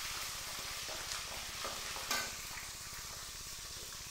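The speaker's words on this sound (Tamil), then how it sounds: "அடுத்து எடுத்து வச்சுருக்க க்ரீன் சில்லி போட்டுட்டு லைட்டாக கிண்டி விட்டுக்கோங்க." Green chillies fry in hot oil in a pan for a crab gravy, a soft, steady sizzle with a few scraping stirs and light pops, close but fairly quiet, with no talking.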